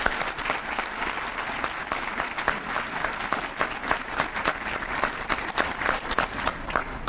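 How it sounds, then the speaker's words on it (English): Applause from an audience at a 2013 Teacher of the Year ceremony, a steady wash of many hands clapping together, moderately loud and continuous with no talking over it. "So have everyone give each other a round of applause tonight."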